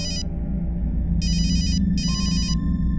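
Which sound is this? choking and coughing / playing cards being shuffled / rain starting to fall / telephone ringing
telephone ringing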